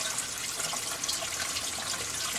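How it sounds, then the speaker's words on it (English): Water gurgling and draining through an aquarium sump siphon after the flow is shut off, a steady broadband rushing trickle that holds throughout at moderate loudness. "I'm going to turn the water off, and you can hear the siphon"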